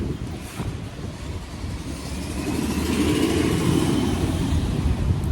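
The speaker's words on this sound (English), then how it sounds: "There's so many cars right here." Several cars pass along a street at close range, engines building to a louder, steady rush of traffic that swells in the second half with no talking.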